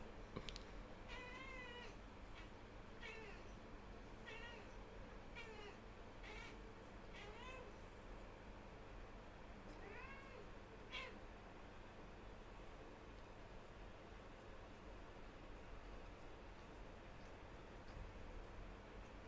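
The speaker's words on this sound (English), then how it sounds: "My cat's talking to the birds." A Siamese cat gives a string of soft, chirping meows at birds, several quick repeated calls in the first half, then quieter, with a faint steady background hiss and no talking.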